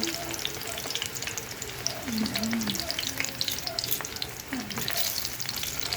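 Eggplant slices fry in hot oil with a steady, close crackling sizzle, punctuated by occasional sharper pops and brief stirring clatter, continuous and fairly loud throughout.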